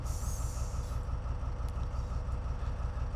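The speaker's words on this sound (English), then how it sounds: "it could well be a ballast train, like a work train" A London Underground ballast work train in Train Simulator Classic runs with a continuous low rumble and hiss, a brighter hissing layer fading out early on, with no voices.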